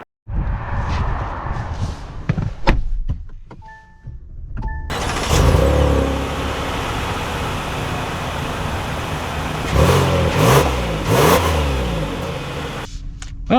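A 2025 Kia Telluride SX with a V6 engine starts up, then settles into a steady, fairly loud idle and revving drone with a few surges, heard close and without talk.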